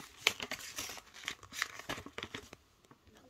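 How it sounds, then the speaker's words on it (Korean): Sheet of paper being folded into a Concorde-style paper airplane, with a run of close crinkling and crisp creasing rustles in short bursts, fairly quiet and with no voices. "밑으로 내려 접어주세요."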